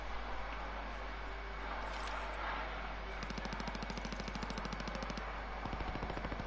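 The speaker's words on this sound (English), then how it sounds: "They're shooting very well." Sustained enemy gunfire in a Call of Duty Plunder match, rapid automatic bursts rattling steadily through the second half over a constant background hum, fairly faint, with no talk.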